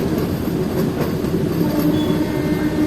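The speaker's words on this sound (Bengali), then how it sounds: "আমাদের ট্রেন ক্রস করছে ময়ূরাক্ষী নদী।" A 03560 Rampurhat–Andal MEMU passenger train crosses the Mayurakshi river bridge near Sainthia. The rumble and rolling of the carriages is loud and steady from start to finish, with no talk over it.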